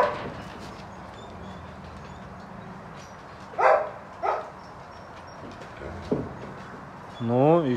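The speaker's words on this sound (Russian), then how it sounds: "Вот вам опровержение того, что волки тоже могут издавать звуки и лаять." A few short barks and yelps sound from a wolf, with a rising whine near the end, over a rough background of people talking.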